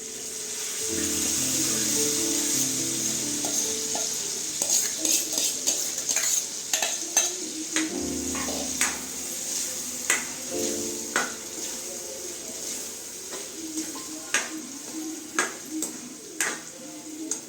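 A spoon stirs moraiyo into sautéed potatoes in a pan: a steady sizzle at first, then repeated scraping and clinking strokes at an uneven rhythm, close and clear, with a voice talking over part of it.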